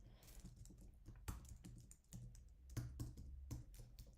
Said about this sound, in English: then I'm just going to type it out